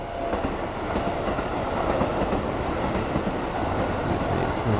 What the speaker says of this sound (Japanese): 歩いてるところは線路際なんで、結構電車の、行き違いというか電車に遭うことが多いですね。